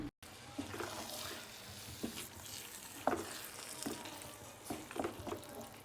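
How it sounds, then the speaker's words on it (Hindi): Cauliflower keema fries over medium-high flame while a wooden spoon stirs and presses it in the pan, producing a soft continuous sizzle with intermittent scraping knocks, fairly faint. "तो आपने यहाँ पे मीडियम हाई फ्लेम करके इसकी भुनाई करनी है कि इसका तमाम तर पानी खुश्क हो जाए।"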